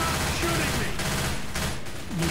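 Gunfire rattles in Left 4 Dead 2 as bursts of automatic shots crackle under overlapping game noise, fairly quiet and continuous through the moment.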